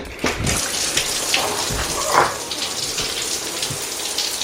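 A campsite shower in a field near St David's, Pembrokeshire, gushes steadily once its button is pressed, with a continuous hiss of water and a few soft knocks and splashes throughout.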